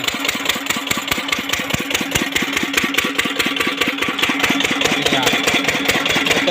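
A farm oil engine pumps irrigation water for an organic okra field, thumping out a steady, rapid single-cylinder beat at close range, loud and unbroken throughout with no talk.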